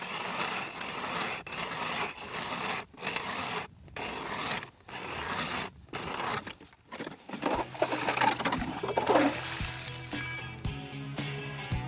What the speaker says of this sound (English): Blades on this new auger are just sticky sharp.